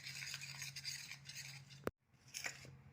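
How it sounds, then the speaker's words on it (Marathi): A spoon stirring hot ghee into wheat flour in a bowl for shankarpali dough, a close series of soft scraping and rubbing strokes with a sharp clink of metal partway through, quiet and without talk. "भरपूर गरम असल्यामुळे आपण हे तूप असं चमचेच्या साहाय्याने ह्या पिठामध्ये मिक्स करून घेऊयात."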